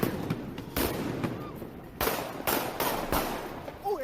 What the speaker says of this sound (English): Shit, they shooting guns at him. Real guns.